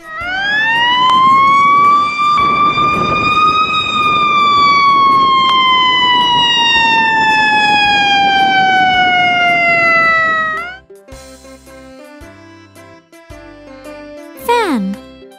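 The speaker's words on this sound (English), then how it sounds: "Ambulance." A loud ambulance siren wails in a long, slowly rising and falling tone, then cuts off, leaving quieter tonal sounds and a brief descending whistle.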